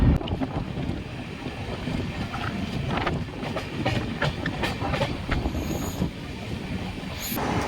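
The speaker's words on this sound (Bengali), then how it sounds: "আমাদের ট্রেন দীঘা থেকে সেটা রওনা হলো পুরীর উদ্দেশ্যে" An express train from Digha to Puri rumbles along the rails with continuous clattering and occasional sharp squeals, heard from on board.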